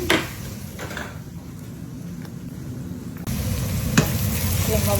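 Garlic frying in a pan with other food, a steady close sizzle with stirring scrapes, growing a little louder partway through, with one sharp clink near the end.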